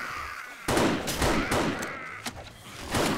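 Sniper rifle fire in the video game 7 Days to Die: several sharp, loud shots in fairly quick succession, each with a short booming tail, heard alone without talk.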